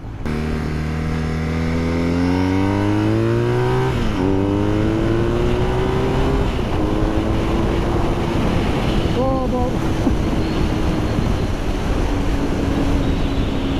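A BMW R1250R motorcycle with a 136 hp boxer engine revs and accelerates on the road, its engine note climbing steadily through the gears with a brief shift drop, loud and close under steady wind noise.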